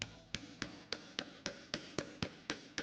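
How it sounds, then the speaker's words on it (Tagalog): A hammer taps a metal pipe held in a hinge about eleven times, bending it round in an even, steady rhythm, each strike a sharp ringing knock, close and distinct with no talking. "Ilagay ang tubo sa bisagra at bahagyang baluktutin gamit ang martilyo para maging bilog ang hugis."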